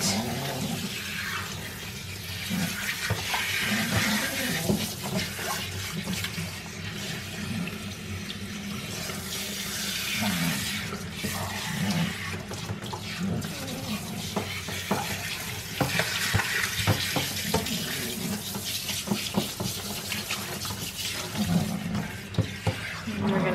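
Running water rinses conditioner from a Shih Tzu puppy's coat during a bath, a steady close splashing and trickling hiss with small rustles as the fur is worked, continuing throughout without talk.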